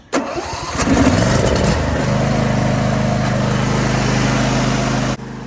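John Deere D160 lawn tractor engine cranking briefly, catching, then settling into a loud, steady idle that runs several seconds before cutting out.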